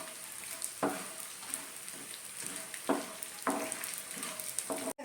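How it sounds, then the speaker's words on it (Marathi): Edible gum (dink) frying in very hot ghee, a steady crackling sizzle punctuated by several sharp stirring scrapes at irregular intervals, close and fairly quiet, with no voices. "थोडा थोडा डिंक तुपामध्ये घालून मी इथे तळून घेणार आहे"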